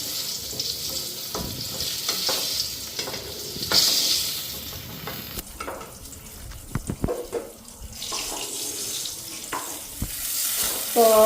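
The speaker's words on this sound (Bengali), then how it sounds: "এদিকে বেগুন ভাজাগুলি উঠাইয়া নেই।" Fried eggplant slices sizzle and crackle in hot oil in a home kitchen, with scraping and clinking as pieces are lifted out of the pan, and bursts of running water from a tap in between.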